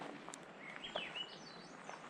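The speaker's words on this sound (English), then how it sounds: "You can hear a thrush calling right next to me." A faint, high thrush call rises and slides briefly over quiet outdoor background noise on a mountain fire road, close by.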